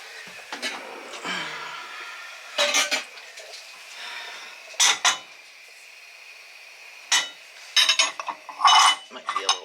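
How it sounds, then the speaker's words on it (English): Melted shortening is transferred into a pot on a wood cook stove while baking bread, heard as scattered metallic clinks and scrapes of the pot and utensils, in short bursts separated by quiet gaps. "maybe I'll put it in a pot."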